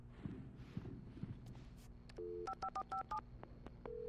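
A telephone being dialed in the video game Alan Wake: a few soft footsteps, then a run of clear, evenly spaced keypad tones over a faint hum, heard alone without speech.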